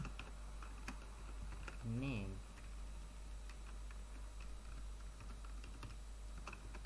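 Rapid, irregular clicking of computer keyboard keys while Python code is typed, faint and close, with a brief spoken voice partway through.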